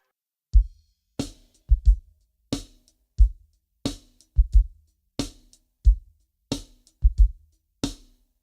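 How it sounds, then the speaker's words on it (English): A drum kit plays a basic funk groove with ghost notes: steady kick and snare hits with hi-hat, about a dozen strong, evenly spaced strikes repeating over eight seconds, close and alone with no talking. "let's say we're just playing a basic funk groove that should sound like this"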